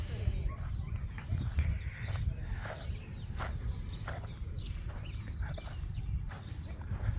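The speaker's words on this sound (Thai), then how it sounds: "มิเกลก็ซ้อมม้าเก่งนะครับสำหรับม้าโปโลเนี่ย" Polo horses on a farm clip-clop with irregular hoof steps, fairly faint and partly buried in rumbling outdoor background noise.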